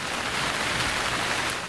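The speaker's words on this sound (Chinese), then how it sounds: "倾盆大雨狂下，前方视线一片模糊。" A heavy downpour from a storm in Kochi, Japan, roars steadily as dense, broadband hiss with no pauses; nobody speaks.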